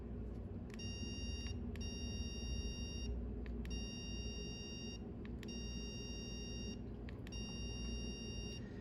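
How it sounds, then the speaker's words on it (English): A Mini Educator ET-300 e-collar transmitter set to tone mode gives a series of high electronic beeps, some short and some long with brief gaps. They sound close and steady over faint background hiss, with no talking. "the device beeped, meaning it is now on tone"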